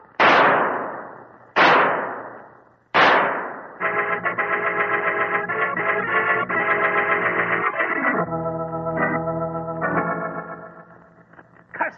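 Three sharp pistol shots in an old-time Sherlock Holmes radio drama ring out with long echoing decays, followed by a swelling passage of dramatic music.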